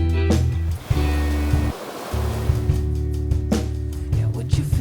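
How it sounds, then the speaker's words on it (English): An ocean-wave wash sits within a loud music mix, broad rushing noise swelling and receding beneath steady bass and tonal parts, with a brief dip in the middle where the low end drops out. "Then we have a wave coming up."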